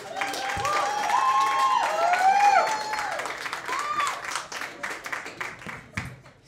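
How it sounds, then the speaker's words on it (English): A comedy club crowd at the Laughing Skull Lounge claps and cheers to welcome a comedian, with whoops rising over the applause before it thins into scattered claps. "Start clapping for Miss Malika E."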